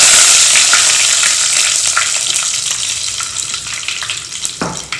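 Curry leaves crackle loudly in hot oil with mustard seeds, cumin and fenugreek for papad curry, a bright burst of sizzle that gradually settles, with spattering pops and a spoon knock near the end.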